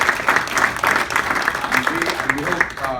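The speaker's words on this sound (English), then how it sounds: "I want you to actually give yourself a round of applause" An audience at a business network event bursts into applause, a dense, even patter of many hands clapping close by that continues steadily for a few seconds with a voice speaking over it.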